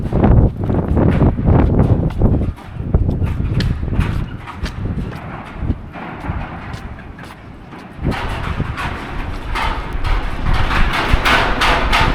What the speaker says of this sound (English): this building's so old that you can hear the aluminum and the steel on the buildings clashing